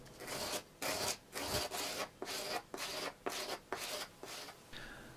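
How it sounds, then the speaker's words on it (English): Coarse 60-grit sandpaper rubbing back and forth over a piece of wood, a steady rasping scratch in about nine even strokes, close and alone. "I then moved on to using a coarse sandpaper, and this was grit 60"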